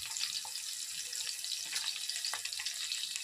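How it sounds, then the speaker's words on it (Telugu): Green chillies and onions fry in a pan for semiya upma, giving a steady, close sizzle and hiss that runs unbroken throughout, with no voices. "పచ్చిమిర్చి కొంచెం వేగాక ఆనియన్స్ అయితే వేసుకోవాలి"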